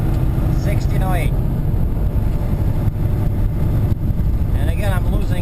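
Heavy-haul truck engine drones loudly and steadily in top gear on a slight uphill grade, its low rumble filling the cab as RPM sags by about 200; someone talks over it throughout.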